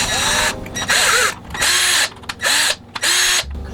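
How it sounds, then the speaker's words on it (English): A power drill boring 7/64-inch holes in a plastic pump-kit shell runs in four loud bursts, each whine rising and falling as the bit bites, with short pauses between. "I'm going to drill the 7/64 holes"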